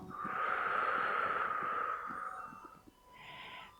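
A long, slow exhale during a qigong breathing exercise, a soft, breathy rush lasting about two seconds that fades out, then a brief quieter breath follows, close and calm with no talk.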